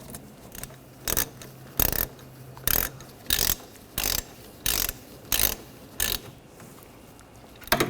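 A ratchet tightening brake caliper bolts on a 2013-2019 Ford Escape, clicking in about ten close, evenly spaced bursts with short pauses between strokes.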